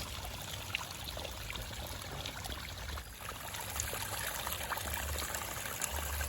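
Natural spring water wells up from the ground in a garden after heavy rain, a faint steady trickle and gurgle of flowing water, continuous and close.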